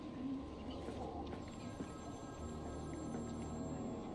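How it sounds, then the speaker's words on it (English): A telephone in a phone box rings in Batman: Arkham City, heard as a thin, repeating electronic tone over a dense, rumbling game ambience. "Where's the ringing phone?"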